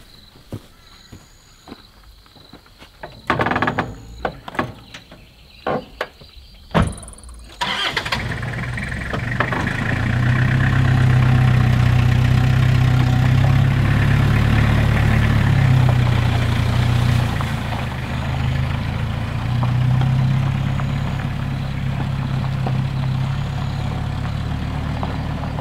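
A truck engine cranks and starts after a few scattered footsteps and knocks, then settles into a steady, loud idle rumble that runs on for the rest of the scene in the bush beside a dam.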